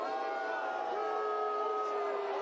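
Stadium crowd at a Monterey Bay F.C. versus Memphis 901 FC football match voicing displeasure, a sustained low roar of many voices with some whistle-like tones, steady and moderately loud throughout.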